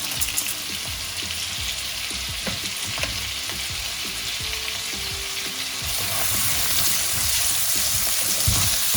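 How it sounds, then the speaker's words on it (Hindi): Green chili with garlic, salt and black pepper frying in a pan gives a steady, dense sizzle that grows a bit louder toward the end, with soft stirring knocks scattered through it and no voices. "थोड़ा सा भूनते हैं इसको"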